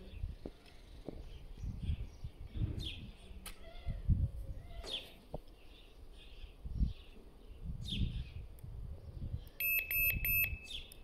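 A Fox RX+ fishing bite alarm tested indoors gives a short run of sharp electronic beeps near the end, after faint scattered knocks and rustling.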